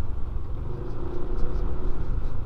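Cars passing on a narrow road near a construction site in the Philippines, a steady low rumble of traffic with engine noise that swells slightly midway, fairly close and continuous.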